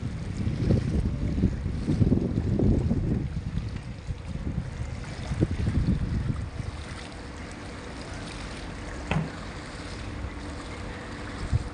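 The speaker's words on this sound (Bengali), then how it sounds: "আজকে সমুদ্র আসলে অনেক উত্তাল। দেখেন সমুদ্র পানি কীরকম, অনেক বড় বড় ঢেউ।" A rough sea with big waves, heard as a low rolling surge and rumble of water against steady wind noise on the microphone, loudest early on and easing toward the end, with no talking.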